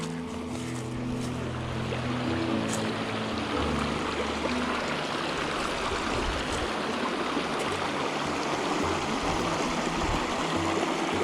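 A river flows along a wooded hiking trail, giving a steady, even rush of water throughout with no voices.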